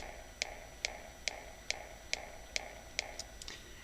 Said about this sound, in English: I'm going to show you how to set up a simple 4 to the floor bass kick